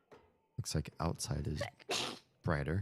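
A person sneezes once, a sharp burst in the middle of ordinary conversational talk.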